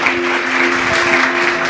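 A church congregation claps loudly and steadily at a Sunday service, a dense continuous wash of applause with a faint sustained tone running underneath.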